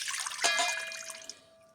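Water poured into a bowl for fried pie dough, part of it potato cooking water, making a short splashy pour that fades into a faint trickle, with no talk.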